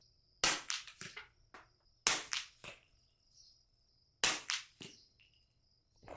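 Three suppressed rifle shots come from a rifle with a fairly large suppressor and a fully open gas block, each a sharp crack about two seconds apart with a short echoing tail, separated by near silence.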